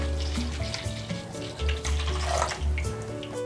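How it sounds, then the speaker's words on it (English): Milk being poured into a bowl, a continuous liquid splash and gurgle close by with pulsing surges as the stream shifts, over a faint low hum. "Now I'm going to pour my milk into the bowl."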